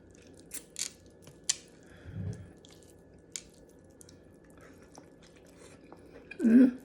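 Someone eats pork adobo, with soft, wet chewing and occasional sharp bites, gulps and squishy mouth sounds at close range over a low background hum, with a louder burst near the end.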